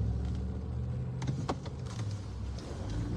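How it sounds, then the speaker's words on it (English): Cars pass on the road, heard as a continuous low rumble of road noise from inside a moving vehicle, with a few brief swells and clicks in the middle and no talking. "lots of cars coming at the moment."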